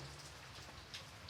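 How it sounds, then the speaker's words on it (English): Rain falling with a soft pit-pat of droplets, a faint, even patter that continues steadily throughout with no voices. "The rain slowly grew louder."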